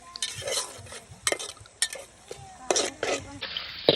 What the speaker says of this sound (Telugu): రెండు నుంచి మూడు నిమిషాల పాటు పచ్చి వాసన పోయే వరకు తిప్పుతూ కలయబెట్టుకోవాలండి